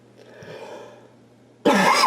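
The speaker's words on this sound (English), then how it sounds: "Excuse me, I had to cough." A single sharp cough bursts out after a quiet moment, close and loud, following faint background murmur.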